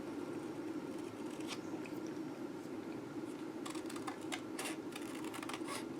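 Scissors cutting a piece of material for a wooden heart mantel piece, a run of crisp snips that cluster toward the end over a constant low background hum, close with no speech.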